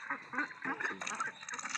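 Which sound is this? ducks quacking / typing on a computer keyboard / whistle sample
ducks quacking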